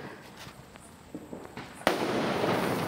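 A few faint pops are followed by a sudden loud crack and a sustained crackling roar of Diwali firecrackers bursting nearby.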